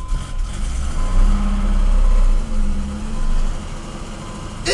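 A car engine idling right after a cold start, having sat for two weeks with a slight miss, a loud, steady rumble with small swells as the throttle is touched.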